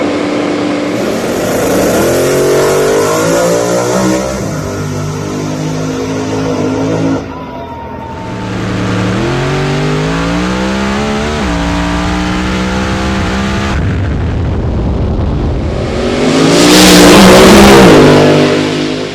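A Funny Car Chaos drag racer at Eddyville Raceway Park roars loudly as it accelerates down the track in long revving pulls with gear changes, and a closing surge of broadband noise.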